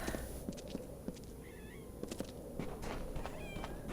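A cat meows a few times in the action role-playing video game Adventures in Amalur, short faint calls heard over steady game ambience and soft footsteps.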